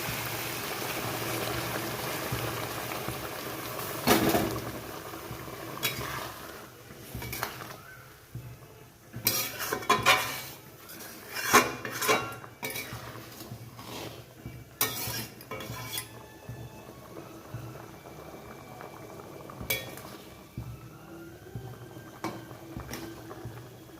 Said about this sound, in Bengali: ঝোলটাও ভালো মতো ফুটে গেছে